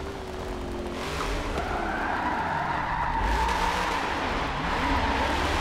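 Tires squeal and skid in a racing video game played on a Logitech G920 wheel with an NRG hub while the tires are warmed up before a Long Beach round, a steady car screech with engine tone underneath.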